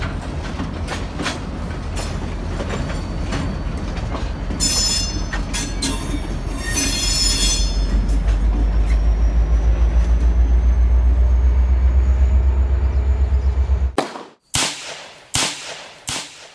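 Model DCC locomotive 2821, a Great Northern engine in 1970 livery, shoving back on layout track: a steady mechanical rumble with ticking rail clicks and faint squeals, then abrupt stops and a few sharp clicks near the end.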